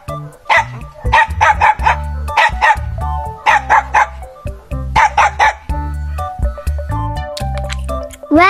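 A puppy gives repeated high-pitched yapping barks, close and loud, in quick clusters over a steady background tone.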